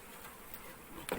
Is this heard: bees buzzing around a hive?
yes